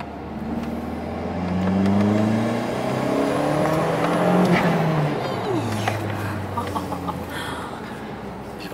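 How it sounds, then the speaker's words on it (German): A turbocharged car pulls hard through second and into third gear, its engine note rising in sweeping harmonic climbs that fall back at each shift, steady and close throughout with no talk over it. "Wir beschleunigen jetzt gleich mit dem zweiten, ein bisschen mit dem dritten."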